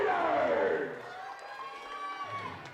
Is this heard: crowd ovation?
yes